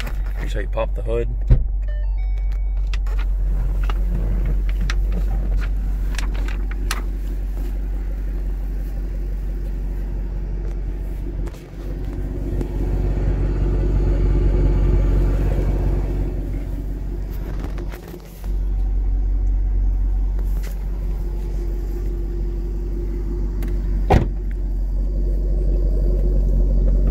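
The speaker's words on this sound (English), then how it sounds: "Car sounds really, really nice. All stock." A stock 2011 Shelby GT500 engine with SVT performance package idles with a deep steady rumble throughout, while someone talks over it nearby.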